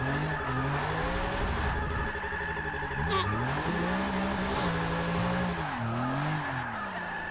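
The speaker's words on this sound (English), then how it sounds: "this thing is amazing at drifting." A 1997 BMW E36 M3 drift build in Forza 6 slides hard through cones, its engine revving and rising and falling in pitch under loud, continuous tire squeal, with a brief voice over the top.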